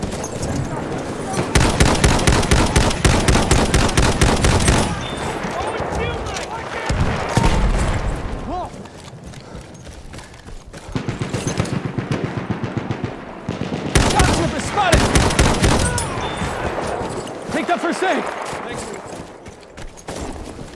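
Machine gun fire crackles in a Battlefield 1 team deathmatch on the Achi Baba map: long, rapid automatic bursts, loud and close, separated by quieter gaps with battle noise and voice chatter between them.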